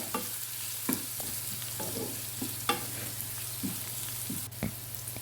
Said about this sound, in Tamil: வெங்காயம் அப்படியே எண்ணெயிலே வதங்கட்டும்.